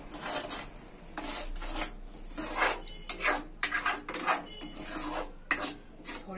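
A spoon scrapes and clinks in a pot of amla chutney simmering on a low flame, in irregular rubbing strokes that are close and moderately quiet.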